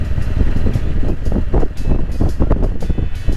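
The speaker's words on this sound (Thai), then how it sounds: "ฟังเสียงลม ฟังเสียงรถในงทางนะครับ" A Honda CB500X motorcycle descends a mountain road at Phu Thap Boek, with loud, steady wind buffeting the microphone over a low engine drone.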